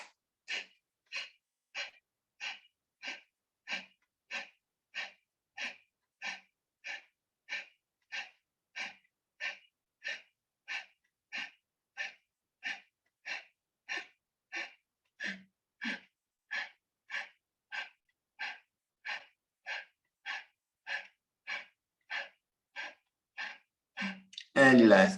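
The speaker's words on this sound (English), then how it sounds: "look down and look up and do Kapalbhati for 30 seconds" Kapalbhati yoga breathing during a chair yoga class: a long steady train of about forty short, forceful nasal exhalations, evenly spaced about every half second, close and clear, ending with a louder burst at the finish.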